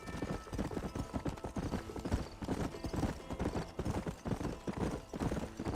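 Horse hooves clip-clop in a steady, brisk rhythm in the Red Dead Redemption video game, close and clear, with faint background game sounds and no talking.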